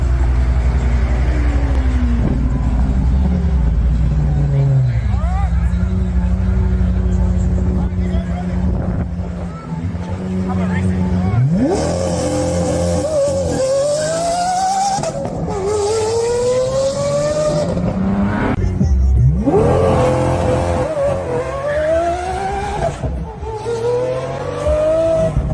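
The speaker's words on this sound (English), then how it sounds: "I meant a drag race." A Tesla Cybertruck and a Lamborghini in a drag race, with repeated rising engine or motor sweeps and tire noise running under steady talk throughout.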